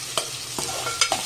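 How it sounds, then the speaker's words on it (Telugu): Vegetables for street-style veg noodles are stir-fried in a hot pan, with steady sizzling broken by a few sharp scrapes and tosses of the spatula, loud and close with no talking. "అన్ని వెజిటబుల్స్ నేను ఇందులోనే మిక్స్ చేసుకుంటున్నాను."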